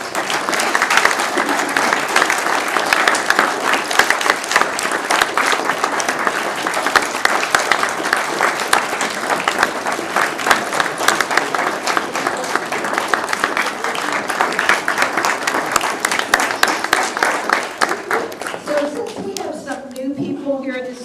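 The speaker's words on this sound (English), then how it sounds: "So could we please give them a round of applause?" A long round of applause at a city commission meeting, many hands clapping steadily and loudly for about twenty seconds before thinning out, with a voice starting to speak as it ends.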